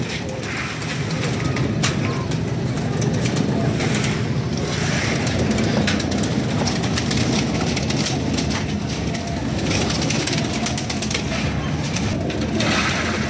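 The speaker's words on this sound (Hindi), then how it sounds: "जो साहब दरवाजे खोल रहे हैं तो कबूतर बहर कट रहे हैं" A dense, steady rush of flapping wings and pigeon coos fills the air, loud and continuous, as a flock of pigeons bursts out together from an opened loft.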